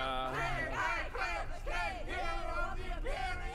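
A crowd cheering and whooping, with many voices yelling in rising, wavering bursts that overlap continuously, fairly close and loud throughout.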